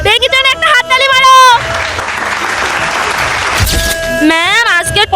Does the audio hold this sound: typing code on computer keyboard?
no